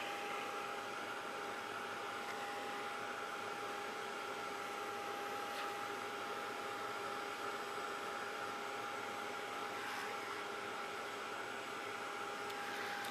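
A heat tool blows steadily on a mixed media textured surface, a constant close whirring rush of air and motor hum that holds unchanged throughout with no talk.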